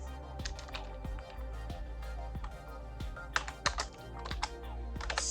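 Rapid, uneven keystrokes on a computer keyboard with sharp clicks and a few heavier key hits, close and alone over a steady low hum.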